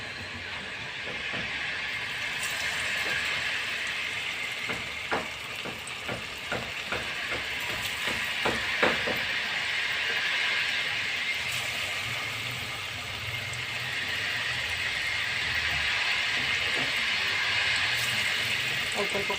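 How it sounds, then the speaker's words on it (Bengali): Raw banana fish cutlets frying in oil give a steady, close sizzling hiss with scattered crackles and pops that cluster in the middle and then settle into an even fry. "এবার ভেজে নেব"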